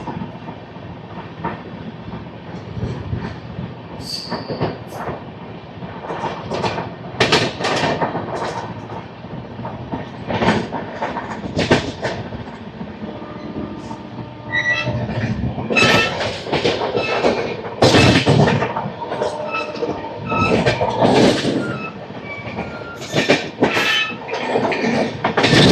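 The Vivek Express from Dibrugarh to Kanyakumari runs past at close range with loud rhythmic clatter of wagons over rail joints, bursts of metallic clanks and a brief wheel squeal, the noise swelling again toward the end.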